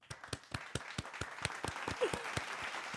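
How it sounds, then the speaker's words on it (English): A small group claps in a round of applause on a podcast, sharp individual claps in a quick steady rhythm, close and fairly clear, without talk. "Everyone, let's give a round of applause."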